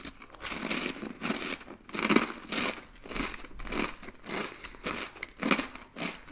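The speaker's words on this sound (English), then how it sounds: "So Oopsie wanted to join when she hears something crunchy like the crotons" Croutons crunch during close-up eating of a chicken Caesar salad, sharp bites followed by a steady rhythm of crisp chewing, loud and near with no talking.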